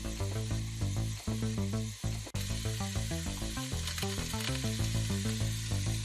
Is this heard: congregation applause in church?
no